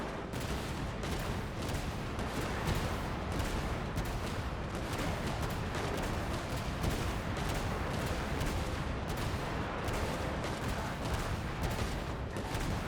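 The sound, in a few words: machine gun fire in a video game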